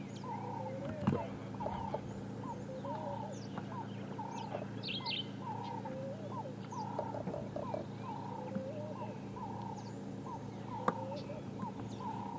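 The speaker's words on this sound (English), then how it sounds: "You can hear Cape turtle doves calling in the distance." Cape turtle doves call in the distance on a dry morning in the African bush, their soft repeated coos faint and rhythmic amid other scattered bird chirps.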